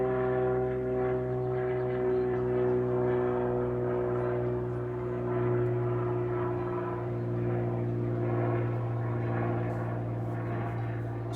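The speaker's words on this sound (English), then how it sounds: "That's a plane that's going through the area" A practice airplane passes over a rural blueberry-growing area, its steady droning engine hum holding fairly loud and constant throughout with no voices.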